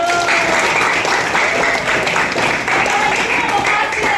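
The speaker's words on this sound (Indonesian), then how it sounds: "Tepuk tangan dulu buat Ayu." Sustained applause fills a classroom as students clap for a classmate, a dense steady wash of hand claps lasting the whole stretch with some voices mixed in.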